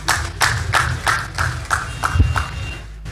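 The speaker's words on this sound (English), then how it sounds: "I think we should give a round of applause to him" Applause for the chief of defence staff at a homecoming ceremony in Agbor, heard as a slow, regular run of distinct claps, roughly three per second, over a low rumbling background.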